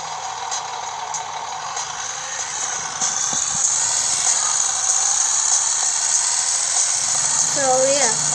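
A helicopter in the blocky video game Block City Wars gives off a steady, high, buzzing engine whine that grows a little louder partway through and stays constant under faint game sounds.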